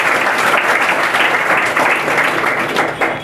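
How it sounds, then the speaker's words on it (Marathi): Sustained audience applause fills a hall at an academy's third anniversary event, dense steady clapping from many hands, loud and close, continuing for a few seconds without speech. "सगळ्यांनी एकदा टाळ्या वाजवायच्या."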